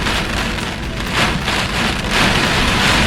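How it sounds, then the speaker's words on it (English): Hurricane Ian's winds of around 60 miles an hour drive heavy rain against a car, making a loud, continuous roar of pelting water and gusts that swells and eases without any talk. "I'm thinking we're getting close to 60-mile-an-hour winds now, based on what I'm seeing."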